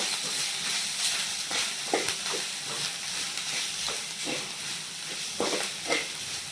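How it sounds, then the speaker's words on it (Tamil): Chicken sautéing in a pan with chili powder, cumin powder, chicken masala, coriander powder and salt: a continuous close sizzle and hiss with scattered stirring scrapes, no talk. "சிக்கன் போட்டு நல்லா வதக்கியாச்சு."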